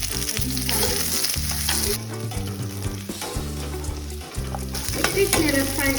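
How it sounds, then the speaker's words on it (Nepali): Chillies, capsicum and onion frying for chilli momo, a loud, steady sizzle with stirring noises under prominent background music, no talk. "यो खुर्सानीलाई एकछिन फ्राई गराएँ"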